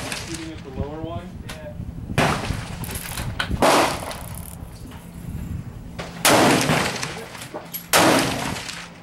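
A Hatsan 135 .25 air rifle fires several sharp, loud cracks spaced a few seconds apart, with mechanical clatter between shots and people talking throughout.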